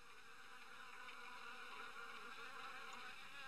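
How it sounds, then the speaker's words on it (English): Wasps buzzing in the video game Harvester, a steady, dense insect drone that holds evenly throughout without breaks, no voices over it. "that is also the perfect place for wasps."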